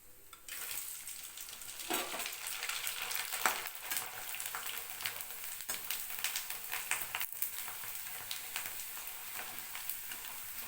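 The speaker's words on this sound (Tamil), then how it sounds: "இப்போது நான் வறுத்து காமிக்கிறேன்" Sun-dried rice vathal fries in hot oil in a pan, a dense crackling sizzle that runs steadily for several seconds, with occasional scraping stirs and light clinks, close and moderately quiet.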